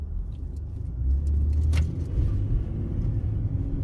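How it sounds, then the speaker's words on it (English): A 2019 Ford F-150 pickup with a suspected transmission hydraulic pressure loss accelerates under very light throttle and is slow to engage fourth gear. A steady, low engine and road rumble is heard from inside the cab, with no talking. "It took a while to engage fourth gear there under very light throttle."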